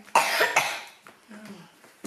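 A single close cough bursts out with a rough throaty follow-up, then fades into quieter breathy noise.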